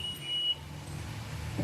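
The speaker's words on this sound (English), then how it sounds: "You will hear that beep anytime that you turn your key on for the motor." A 2019 Monterey M45 boat's dash gives a short, thin electronic beep as the key is turned on, followed by a low steady background hum.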